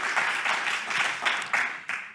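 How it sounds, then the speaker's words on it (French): Steady audience applause for the mayor in Vichy, a broad continuous wash of many hands clapping close and loud, with a few sharper accents near the end. "On peut un peu l'applaudir, monsieur le maire, pour cette première intervention."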